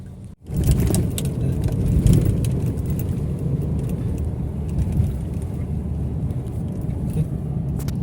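Daihatsu All New Terios Facelift 2023 manual SUV cruising along a winding road toward Toraja, giving a steady low engine drone and road rumble heard from inside the cabin, continuous and fairly loud with no talking.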